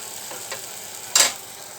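Kechki fish charchari being stirred in a frying pan: a faint, steady sizzle with a couple of soft scrapes and one brief, brighter clatter of the spatula near the middle, close up and with no talking.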